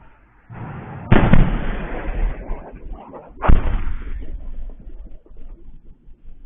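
Two heavy booming explosions a couple of seconds apart on the outskirts of Voronezh, Russia, during drone shoot-downs, each followed by a rumbling roar that lingers and fades, loud and distant-sounding.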